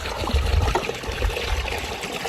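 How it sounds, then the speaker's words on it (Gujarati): Water running from a just-opened tap or pipe on a farm during cumin planting, a steady trickling, splashing flow heard close and alone, with faint low rumbles underneath. "પાણી કરી દીધું ચાલુ"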